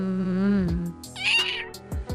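A cat meows a long, wavering meow close by, followed by a second, higher and shorter meow.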